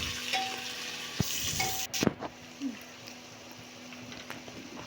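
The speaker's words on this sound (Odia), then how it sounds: "ତାପରେ ପିଆଜ ପକେଇଲୁ। ତାକୁ ଟିକେ ବ୍ରାଉନ୍ ହେଲା ପର୍ଯ୍ୟନ୍ତ ଭାଜିଦେବା।" Onions frying in a pan for a Kandhamal-style mutton curry, a soft continuous sizzle with a few clinks and stirring knocks in the first half, then settling to a quiet steady crackle.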